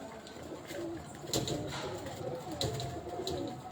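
Breeder pigeons in a loft cooing softly, several low rolling coos against a busy background with occasional sharp knocks and rustles, moderately near.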